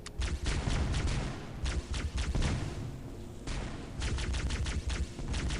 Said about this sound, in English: I just use a plasma rifle to mop up all the infection form